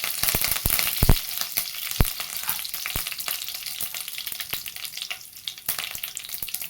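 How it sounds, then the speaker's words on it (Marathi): Cumin seeds and curry leaves hit hot oil after mustard seeds, producing a loud, close, crackling sizzle with frequent sharp pops and spits spread irregularly throughout. "त्याच्यातच जिरे पण टाकून घेते कडीपत्ता टाकते"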